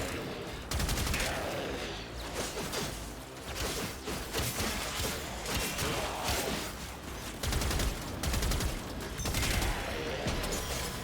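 Dense gunfire in the video game Warframe, with rapid bursts and loud shots layered over busy game effects, continuous for about ten seconds after a brief lull at the start.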